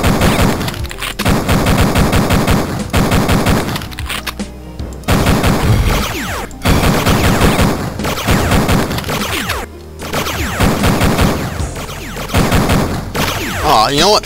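Rapid bursts of automatic turret gunfire in Duke Nukem 3D, loud and repeated in dense volleys with brief pauses between, with a player's voice talking over parts of it.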